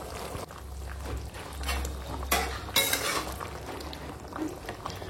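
Potato curry simmering in a pan with extra water added for gravy, a utensil stirring and scraping against the pan in irregular clinks and scrapes over a soft low bubbling, close by and moderately quiet, with no talking.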